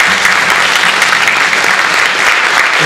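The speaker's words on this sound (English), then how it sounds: "how about another round of applause for those horn players?" An audience applauds horn players at a jazz camp, with steady, dense clapping that holds at an even level throughout and no talk over it.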